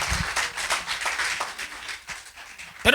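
A church congregation gives rhythmic applause during a service, with scattered, uneven claps that fade toward the end before a sharp final burst.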